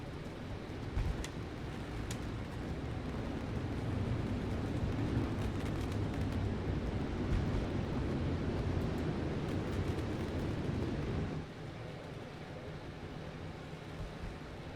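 Fireworks bursting over a Knoxville dirt race track for an American All Star Pro Late Models event, a dense, rumbling wash of booms and crackle, steady and loud, then dropping to quieter background noise near the end.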